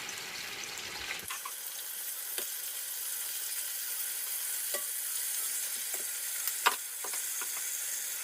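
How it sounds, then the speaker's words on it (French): Meat browning in hot oil for a millet couscous dish, a constant close sizzle with occasional sharper spits and pops, no voices. "on va faire revenir la viande dans l'huile"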